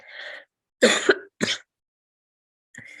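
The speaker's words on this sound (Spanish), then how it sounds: "Perdonen, la tos." A person coughs and clears their throat during a lecture, a short rasp followed by two sharp, close coughs and a faint trailing one, with silence between.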